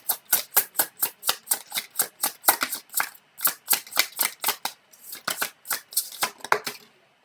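Tarot cards being shuffled and drawn in a French reading, a long run of quick crisp riffling slaps in steady rhythm, close and fairly loud, with a brief pause before the flicking resumes.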